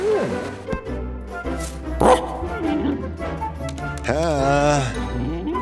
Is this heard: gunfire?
no